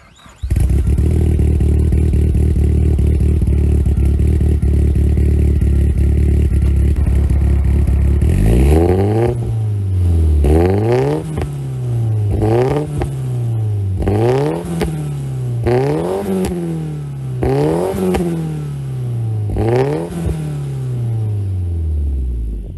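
A Nissan Pulsar GTi-R engine, tuned to about 300 horsepower, idles at a steady low rumble, then revs repeatedly through a series of rising and falling bursts, loud and close.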